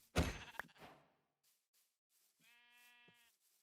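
A sheep in the Minecraft video game lets out a short, clear bleat near the end, following a louder thunk and a few faint game noises.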